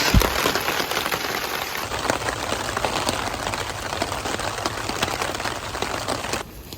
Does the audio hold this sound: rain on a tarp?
yes